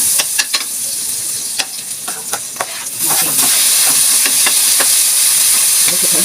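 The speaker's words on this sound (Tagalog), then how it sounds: "Alibutan ko ang kamatis at bawang sibuyas." Tomatoes, garlic and onion sauté in hot oil, giving a loud, continuous sizzle and hiss, joined by scattered sharp clinks and scrapes of stirring, with the frying growing louder midway.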